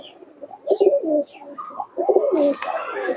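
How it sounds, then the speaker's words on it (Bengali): Pigeons coo loudly and close in throaty, rolling phrases that repeat, with a faint rustle near the end. "আটটি কবুতরে তোমাদেরকে দেখাচ্ছি বন্ধুরা দেখুন"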